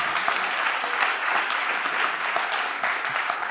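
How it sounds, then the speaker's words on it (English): An audience in a university hall at a nursing and midwifery quiz claps together, a dense, even roar of hands that carries on steadily without pause. "Let us give them another good hand clap."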